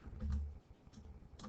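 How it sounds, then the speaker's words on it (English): Quiet, light typing on a computer keyboard, a few soft scattered keystrokes in a short burst, faint and close. "Now I'm just going to type out that one real quick here."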